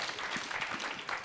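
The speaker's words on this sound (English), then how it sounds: "Well, round of applause." A debate audience clapping, a soft continuous patter of many hands at a moderate distance, fairly quiet and brief.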